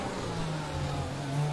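Formula 1 race car engine in the F1 2020 video game at the Baku Grand Prix, a steady close engine drone holding a sustained high pitch with no talk over it.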